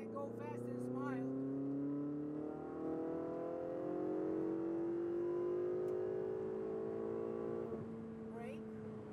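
A Ferrari 488 GTB on a Las Vegas track pulls hard under throttle, its engine note climbing steadily in pitch over several seconds before lifting off, heard from the cockpit with brief voices at the start and end.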